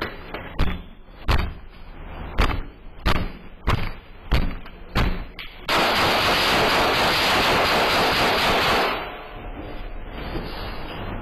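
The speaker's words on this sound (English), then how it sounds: "Another guy steps in, just kicking the door." Repeated hard blows of a man kicking a metal door during an attempted home invasion in Dallas, Texas: about nine sharp, evenly spaced bangs, then a long loud broadband burst of noise that fades into a steady rumble.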